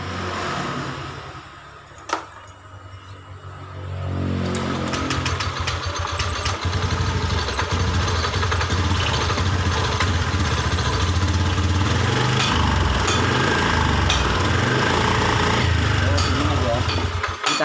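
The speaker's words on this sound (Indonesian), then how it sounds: "Kita hidupkan motornya." A motorcycle with a faulty sensor being started in a workshop: a short quiet stretch, then the engine catches after about four seconds and settles into a steady, close, loud idle for the rest of the clip.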